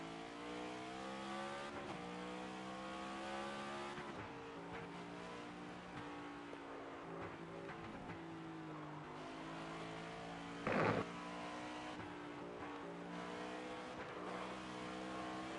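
A race car engine in NASCAR 25 on a backwards lap of Sonoma: a steady, close motor drone rising and falling through gear changes and revs, with one brief sharp burst near the end.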